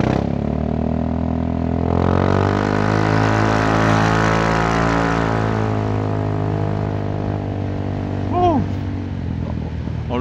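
A Honda Forza 350 scooter fitted with a loud aftermarket exhaust roars steadily while being ridden, a continuous deep engine drone that swells in the middle and stays loud and close throughout.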